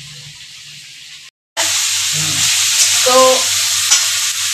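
Grated ginger and garlic hitting hot oil for chicken momos, a brief quiet fry, then a short silence before a loud, close burst of sizzling that holds steady while a spoon scrapes and stirs through it. One short spoken word comes at the start.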